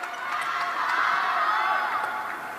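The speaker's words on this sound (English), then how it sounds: "you can hear the crowd really getting behind them as well" Table tennis crowd at the ITTF World Championships finals in Doha, a broad steady roar of cheering and shouting that swells through the middle and holds at a moderate, distant level.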